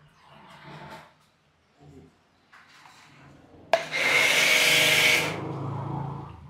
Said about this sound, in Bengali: তো চলো এবার মাটিটা ঘষে নি ভালো করে।